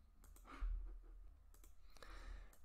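A few faint, sharp mouse clicks sound at a desk computer against quiet room hiss, spaced apart, with no one talking.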